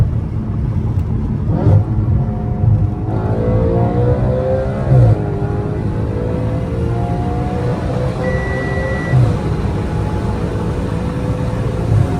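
Audi RS5 with a 4.2L V8 and an X-pipe exhaust revs and accelerates through several rising gear pulls, a loud, close engine roar dominating throughout with no talking.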